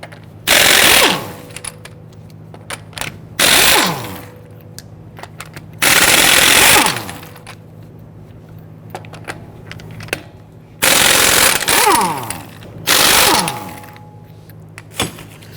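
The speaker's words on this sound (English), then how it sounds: "Using our 19mm socket, we're going to get loosened and remove our lug nuts." A 19mm socket on an impact wrench loosening and removing rear-wheel lug nuts on a 2010-2019 Ford Taurus: five loud, rattling bursts of roughly a second each, separated by quieter pauses with faint clinks.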